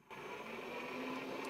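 A dive chamber machine whirs on abruptly and settles into a steady droning hum, moderately loud and continuous after the start.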